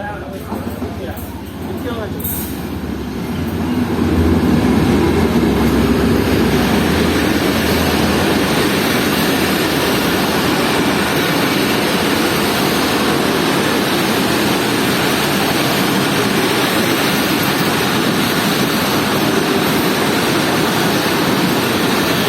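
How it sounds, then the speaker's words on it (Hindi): The Awam Express, led by ZCU30 locomotive 6312, pulls into a station platform on the Shahdadpur route. A low, heavy rumble swells after a few seconds and then holds loud and steady. "ट्रेन पहुंच चुकी है प्लेटफॉर्म पर, ZCU30 6312 लीड पर।"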